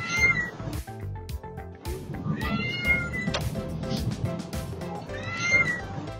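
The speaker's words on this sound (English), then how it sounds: "And of course, the loud meow." A cat meows loudly several times, drawn-out rising cries repeated at intervals over rustling and faint background noise.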